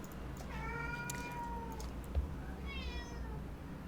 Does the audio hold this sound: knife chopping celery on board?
no